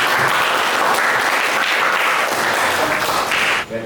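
Applause from a class after a teacher's lesson on biography texts, a dense steady clapping that holds loud for nearly four seconds before thinning out at the end.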